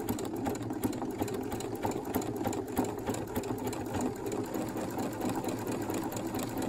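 A sewing machine stitches a buttonhole on a tank top hood, giving a steady, fast mechanical whir and rapid needle chatter that stays close and continuous throughout.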